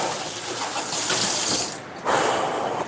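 Water runs from a tap into a bottle in a steady, loud hissing stream that briefly dips before flowing again, with no voices.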